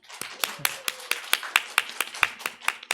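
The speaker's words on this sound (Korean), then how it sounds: "우리 박수 한번 하겠습니다" A church congregation at a winter Bible school praise camp claps in unison to welcome a deacon's testimony. The claps are crisp, evenly spaced and steady, about four or five per second, close and moderately loud.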